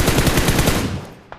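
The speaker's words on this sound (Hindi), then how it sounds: "उसके बाद हिल के साइड से अलग ही फायरिंग होती है" Rapid automatic gunfire in a mobile battle royale shooter, loud and close, a dense burst of repeated shots that fades out after about a second, followed by a brief faint click.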